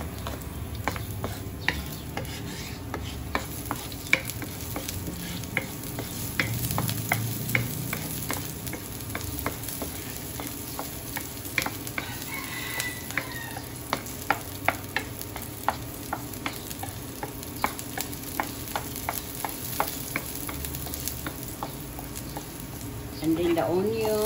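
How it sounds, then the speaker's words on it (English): Garlic sautéing in a frying pan for an ampalaya and tofu dish, giving a steady close sizzle with scattered clicks of a utensil stirring against the pan, continuing throughout. "Saute the garlic."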